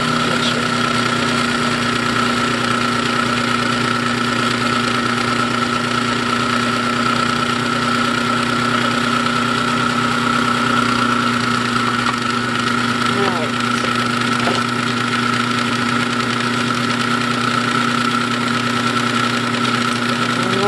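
A loud electric mixer whirs steadily with a constant motor hum and a grinding rattle while mixing cake batter with sugar, running without pause throughout.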